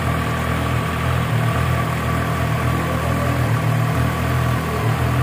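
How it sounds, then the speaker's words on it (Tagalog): A 2023 Triumph Trident 660 naked sport motorcycle idles for an exhaust sound test, giving a steady, loud, low throbbing rumble with a faint mechanical buzz, close by and without speech. "papakita ko sa inyo ang ating sound test ng kanyang exhaust"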